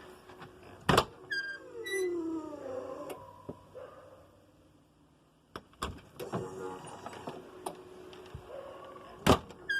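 Kwikee RV auto step with a damaged motor, a whirring electric motor running in bursts with clicks, clunks and a rising mechanical whine, close by and separated by quiet gaps.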